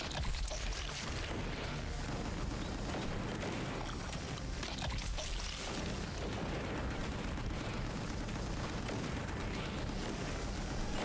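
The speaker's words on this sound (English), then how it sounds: "Will you stop lobbing grenades?" Grenade explosions in the action video game Gungrave G.O.R.E. come as a continuous loud barrage of booms and rumbling blasts, dense and unbroken for the whole stretch, with no clear talking.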